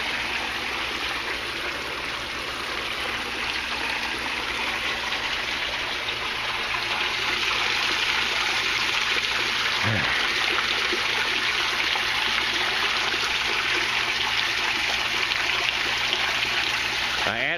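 Water pours steadily into an aquaponics system inflow, a loud, close, continuous rushing gush with a brief low knock partway through and no voices.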